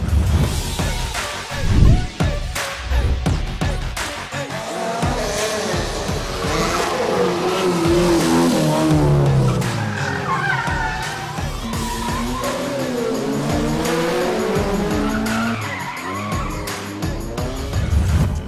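Autocross race cars at a round of the 2020 Philippine Autocross Championship in a large parking lot, engines revving and tires squealing through skids, loud and continuous with shifting pitch as the cars accelerate and slide.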